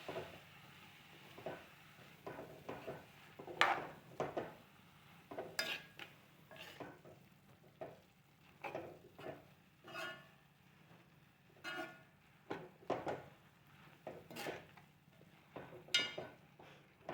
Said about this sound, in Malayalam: എന്നിട്ട് നല്ലോണം മിക്സ് ചെയ്ത് കൊടുക്കാം